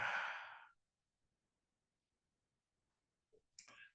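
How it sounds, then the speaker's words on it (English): One slow, breathy exhale from a person, close and soft, fading away into silence, followed by a faint click and the start of a quiet breath. "just blow it out."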